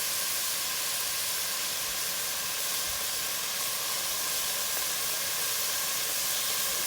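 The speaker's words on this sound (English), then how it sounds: "right now, I'm just frying up some bacon" Bacon sizzles steadily in a hot pan, a constant bright crackling hiss that holds even throughout with no voices.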